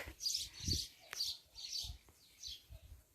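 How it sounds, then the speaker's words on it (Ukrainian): Nestling birds chirp in their nest in a Ukrainian village garden, high bursts of tweeting repeating every half second or so, moderately close, with low background rumble and light handling noise. "Зараз покажу вам наших пташеняток."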